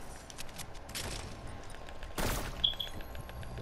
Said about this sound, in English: There's a sniper sniping at me